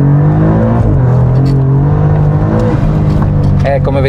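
An Alfa Romeo Giulia Quadrifoglio revs hard while spinning its wheels, the engine holding a loud, steady high-rpm drone with slight pitch wavers and tire scrabble near the end, close up and dominant.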